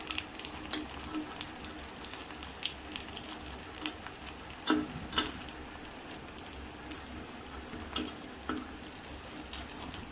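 Masala paniyaram cooking in a pan, a faint continuous sizzle with occasional clicks and taps as pieces are turned, heard from a short distance.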